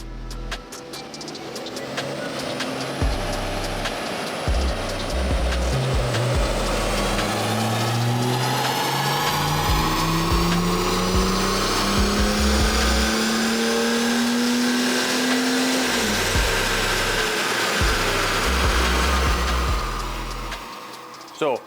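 A BMW M4 diesel on a dyno, engine revving up through a long rising pull with strong harmonics, loud and close, then easing off near the end.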